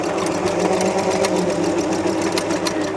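A second-hand sewing machine with spare parts runs steadily, sewing zigzag and straight stitches with a continuous mechanical whirr and rapid clatter, close and fairly loud throughout, with no talking.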